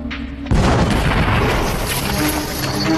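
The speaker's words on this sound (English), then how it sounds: "Again, the explosion rocks the quarry." A replica medieval bombard cannon fires in a stone quarry, a sudden loud boom after a brief quiet lead-in, then a sustained roaring rumble and debris wash that stays loud for several seconds.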